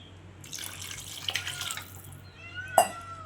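Water is added to potato masala, pouring briefly in a couple of short splashes, with a light clink near the end, against a quiet background hum.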